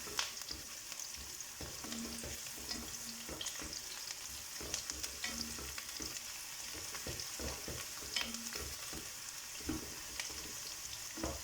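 Sliced onions browning in hot oil for beef yakhni pulao, a steady, faint frying sizzle with occasional stirring clicks and scrapes throughout.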